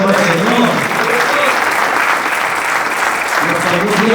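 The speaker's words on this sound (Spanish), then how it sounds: "aplauso al Señor" Church congregation applauding, a loud sustained wash of many hands clapping, steady throughout, with voices and shouts mixed in under the clapping.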